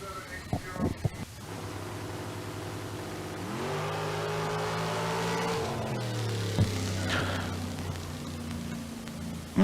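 A drag racing car in the pro category of a bracket race at Tucson Dragway accelerates hard down the strip. Its loud, steady engine roar climbs in pitch through two distinct shifts, with a voice faintly present beneath.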